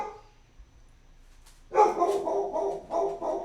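A pet dog barks in a loud, rapid burst of several yaps, starting abruptly after a quiet stretch and continuing to the end with no talk over it.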